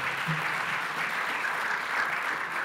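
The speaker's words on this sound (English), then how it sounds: "let's give a round of applause to the economists" Breakfast event audience gives the economists a round of applause, a continuous moderate patter of many hands clapping at a fairly even level.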